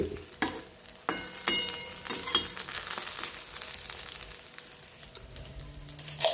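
Brinjals frying in oil and being flipped over, a continuous close sizzle with clustered clinks and scrapes of the turner early on, then steadier frying.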